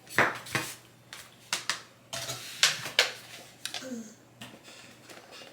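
Milk and eggs mixed for mac and cheese, with irregular clinks and taps of a utensil against a bowl, moderately close, separated by short pauses over a low background hum.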